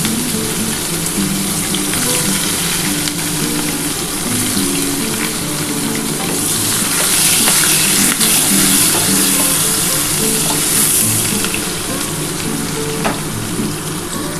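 Onions fry in a pan as part of a chicken dish with papaya paste. A loud, dense sizzle holds steady throughout, with brief scraping bursts from stirring and no voices.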